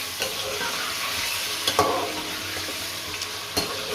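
Chicken pieces sizzle steadily as they fry in a pan for aloo chicken, with a few scraping stirs of a spoon cutting through the continuous crackle at close range.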